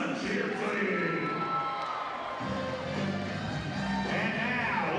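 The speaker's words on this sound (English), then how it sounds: "Make some noise for your CSUN cheer team." Crowd at a CSUN game cheering and making noise for the cheer team, a steady broad roar of voices that fills the whole stretch at loud, constant level.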